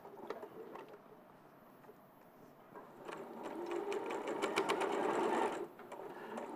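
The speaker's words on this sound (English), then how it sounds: "she's just stitching along there." A sewing machine runs steadily while stitching along the side of a fabric cone, a soft, rapid mechanical patter that grows busier in the middle before easing off.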